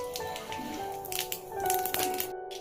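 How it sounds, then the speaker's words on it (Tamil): Mustard seeds spluttering in a hot kadai while cooking a Tamil chow chow kootu: a scatter of sharp irregular pops and crackles over a low background hum, close and moderately quiet. "கடுகு பொரிஞ்சிருச்சு"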